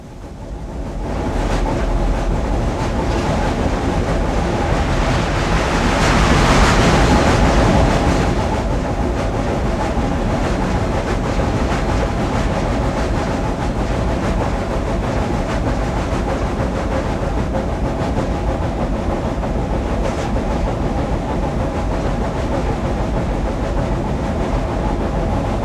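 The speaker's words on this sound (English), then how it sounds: "With the freight still rolling by" A long freight train on Cajon Pass rumbles past at close range, steady and loud, with rolling wheel noise and occasional clanks throughout.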